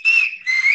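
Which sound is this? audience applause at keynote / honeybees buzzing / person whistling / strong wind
person whistling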